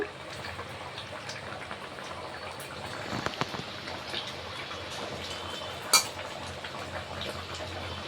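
A Bhimavaram-style fish curry bubbles gently in a pot, faint soft popping and simmering under a low background hiss, with an occasional louder clink or splash.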